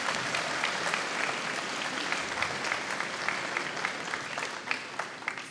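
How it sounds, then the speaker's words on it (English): A school graduation ceremony audience gives a sustained round of applause, many hands clapping in a dense, moderately loud wash with distinct individual claps popping out, continuing evenly throughout. "Can give a massive round of applause first, please"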